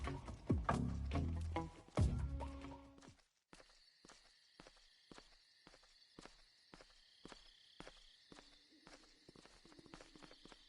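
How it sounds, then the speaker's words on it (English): Footsteps from the stealth game Metal Gear Solid 3: Snake Eater, a steady run of soft, evenly spaced treads over a quiet ambient bed, following a brief burst of louder game sound at the start. "I heard footsteps."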